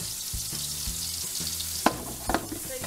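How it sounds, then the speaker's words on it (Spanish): Oil heating in a hot frying pan fills the clip with a constant bright sizzle, broken by a few sharper crackles and stirring clicks near the end. "Acá en este sartén, lo tengo caliente, agregamos aceite. Vamos a dejar que se caliente bien el aceite."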